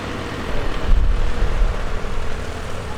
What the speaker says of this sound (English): takeoff roll in the big Cessna 180